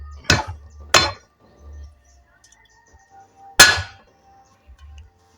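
Coriander root is pounded for Thai braised pork seasoning with three sharp, hard knocks: two in quick succession, then a pause before a final louder blow. Quiet in between.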